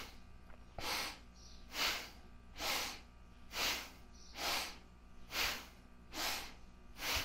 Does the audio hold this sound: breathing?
yes